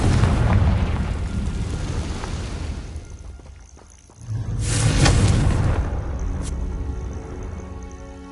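Confringo blasting spell in a Harry Potter video game bursts with a loud boom near the middle of the clip, after a sustained roaring rumble that dips briefly before the blast and a sharp pop trailing it.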